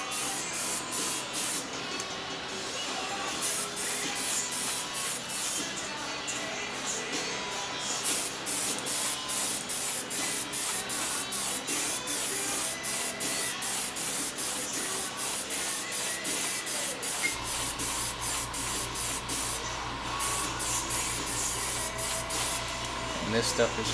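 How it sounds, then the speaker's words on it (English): Spray gun spraying paint at 20 PSI, a loud close hiss in long repeated bursts with short pauses, running nearly the whole time. "so I'm gonna try to minimize how long I spray without a respirator here"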